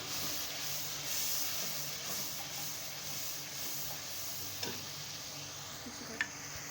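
Yogurt and cream sizzle and fry in a masala for creamy bhindi, a steady close hiss with faint stirring scrapes and a couple of sharp spatters toward the end, no talking.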